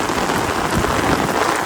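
Heavy rain pouring steadily, a dense, loud hiss of drops close by with no gaps.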